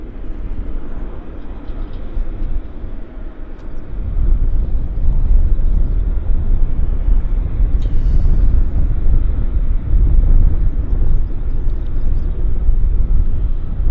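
An airliner taxis in to gate 66 at Vancouver Airport, its jet engines a steady loud roar that swells after the opening seconds and holds without any talk.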